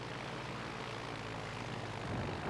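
Torpedo plane engines drone in a World of Warships Legends naval battle, a steady propeller aircraft rumble that fills the whole stretch at an even, fairly loud level, with no talking.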